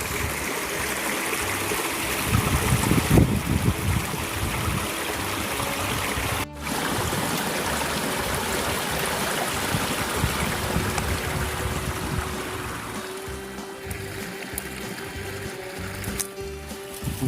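The San Gregorio river flows steadily, a continuous rushing wash of water that holds at a moderate level and eases slightly toward the end.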